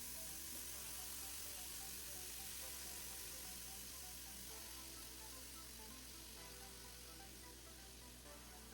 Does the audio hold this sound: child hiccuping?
no